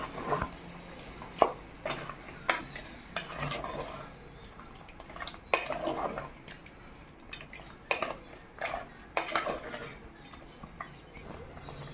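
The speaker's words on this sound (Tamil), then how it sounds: "இப்போ நம்ம இன்னும் நல்லா மிக்ஸ் பண்ணிக்கலாம்" A spoon clinks and scrapes in a pot as country chicken curry is stirred, making irregular metallic taps and wet sloshing, fairly close and moderately loud.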